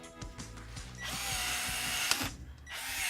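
A power expander tool for plumbing pipe runs in bursts, first pulsing in a ratcheting rhythm, then a longer steady whir that stops briefly and starts again, close and moderately loud.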